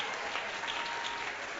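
A congregation claps in church, a dense, steady applause of many hands, near and loud throughout the short burst.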